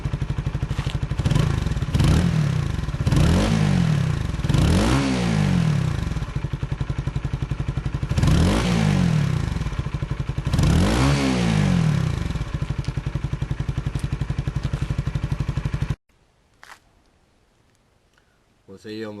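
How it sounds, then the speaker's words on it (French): Revving of a 125cc Honda CBR fitted with an Akrapovic replica exhaust and DB killer, loud and close: a steady idle rises into four or five throttle blips with sharp climbing whine, then cuts to near silence at the end. "Donc on va essayer d'accélérer un petit peu là avec le DB Killer."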